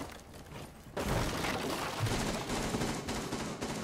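Rapid gunfire from a Rainbow Six Siege match, a dense sustained burst of shots that starts abruptly about a second in and keeps rattling loudly to the end.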